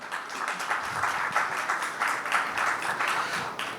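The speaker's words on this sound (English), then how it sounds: "And a round of applause" An audience claps in a fairly small, uneven burst of applause, individual claps audible in a rhythmic patter at moderate volume.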